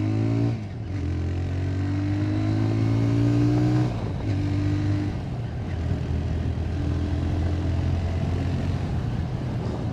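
A TVS Raider 125 motorcycle engine revs up in rising sweeps, its exhaust note climbing in pitch, dropping, then pulling again, close and steady with no voices.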